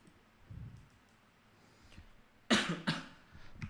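Two quick coughs in a row, close and fairly loud, after a quiet stretch of faint background noise.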